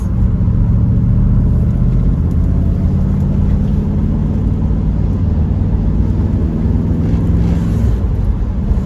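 A classic Triumph Stag drives along with its engine running, a steady loud low rumble heard from inside the car with no speech throughout.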